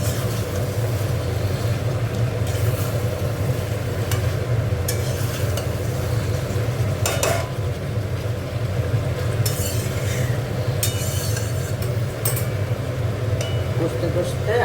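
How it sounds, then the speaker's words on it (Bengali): Potato and cauliflower curry is stir-fried in a pan, with a steady sizzle and repeated scraping and clinking of a spoon against the pan, close and continuous, with a faint hum in the background. "ভালো করে এটা দিয়ে আরেকবার কষে নিচ্ছি।"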